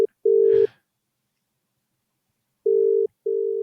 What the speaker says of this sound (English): Do I just call him now and use the phone?